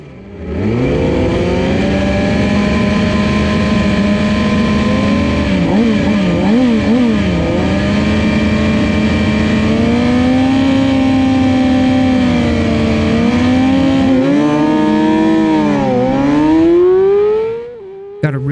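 Supersport racing motorcycle at full throttle during a race, a loud close engine howl that climbs and drops through the gears for about seventeen seconds before cutting off abruptly.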